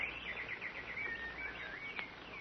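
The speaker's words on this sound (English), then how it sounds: "The little birds were frightened, but when she was dead, they began to sing again." Small birds singing as a sound effect in a 1950s radio drama: a faint, rapid, warbling chirp pattern that repeats steadily over a soft hiss, with no voices.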